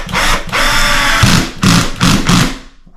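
Power drill driving a screw into a wooden wall stud while mounting a floating shelf, several loud whirring bursts close by with short pauses between pulses as the screw bites.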